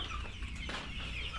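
Chickens cluck softly in a brief burst of short calls over a low, steady background hum.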